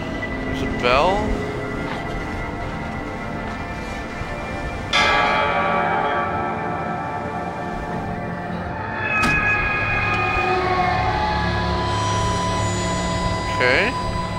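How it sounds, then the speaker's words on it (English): A bell rings out in the horror game Layers of Fear 2, tolling within an eerie, droning ambience while a voice talks over it. "There's a bell."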